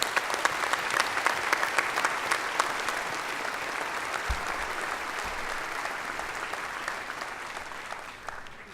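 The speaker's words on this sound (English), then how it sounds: "Again, a round of applause for Doc." Dense, sustained clapping from a large spring commencement crowd at Northwest, loud and steady throughout and easing slightly at the end, with no voices over it.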